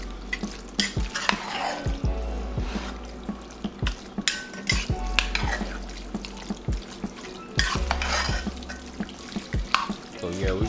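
A spoon works through thick homemade chili with black beans in a pot, making repeated scraping strokes and sharp knocks against the metal over a low simmering sizzle, close and uneven in rhythm.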